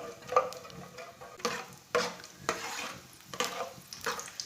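Whole cumin and dried coriander seeds frying in half a cup of oil in a pot, a soft steady sizzle with light stirring and scraping clinks, close and moderately quiet, no talking.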